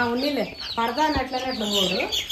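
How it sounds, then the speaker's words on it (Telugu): Guinea fowl on a farm give a run of harsh, repeated calls, several loud cackling notes in quick succession close by. "అవి మన గిన్నె కోళ్ళు"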